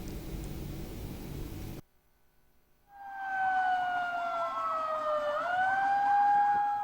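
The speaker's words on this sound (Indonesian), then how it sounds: "sirine tanda detik-detik proklamasi dibunyikan." At an Indonesian Independence Day proclamation ceremony, a loud siren starts up after a brief hush and holds a steady, wavering wail that sounds from a distance across the open gathering.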